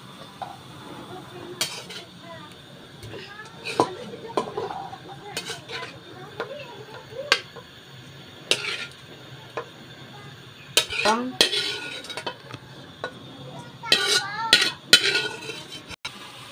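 Beef being moved into a cooking pot gives off scattered metallic clinks and scrapes of utensils against cookware, with a faint sizzle and spoken talk between the knocks.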